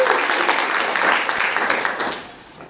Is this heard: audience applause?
yes